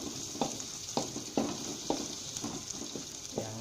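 Pork sizzles and spits in a frying pan, a quiet steady crackle broken by sharp pops and occasional scrapes of stirring.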